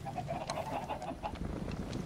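Chickens cluck and squawk in the video game Mechanical Mastery, several birds calling in quick bursts over a steady background drone.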